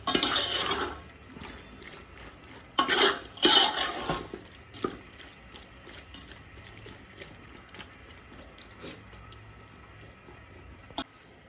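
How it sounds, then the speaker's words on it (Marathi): Marinated vegetables for a vegetable biryani are stirred together in a vessel: a few bursts of wet scraping and clinking of a spoon against metal, followed by long quiet stretches with a single sharp clink near the end. "एकदम मिक्स करून घेऊ."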